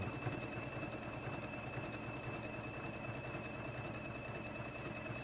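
A sewing machine stitching a side seam down runs in a steady, continuous whir at an even level from start to finish, with no voices over it.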